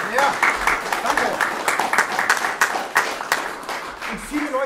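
Applause from a festival audience at a music event rises as a steady patter of many hands, fairly close and loud, with voices and talk mixed in over it.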